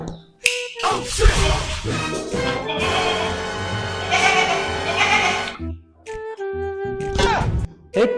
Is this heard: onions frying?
no